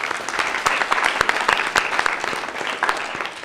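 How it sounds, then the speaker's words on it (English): An audience at the 2023 Monroe County spelling bee for 7th and 8th graders gives a steady round of applause, with dense, crisp clapping filling the room and nobody speaking over it. "I'd like for you to give them a nice round of applause."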